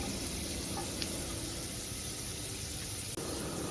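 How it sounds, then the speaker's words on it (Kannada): Urad dal, chana dal and curry leaves with asafoetida frying in hot oil, giving a steady, continuous sizzle that holds evenly throughout with a faint clink near the end. "ಉದ್ದಿನಬೇಳೆ ಮತ್ತು ಕಡಲೆಬೇಳೆ, ಅದಕ್ಕೆ ಸ್ವಲ್ಪ ಕರಿಬೇವು ಸೊಪ್ಪು ಹಾಕ್ಕೊಂಡೆಲ್ಲ ಚೆನ್ನಾಗಿ ಫ್ರೈ ಮಾಡ್ಕೋಬೇಕು"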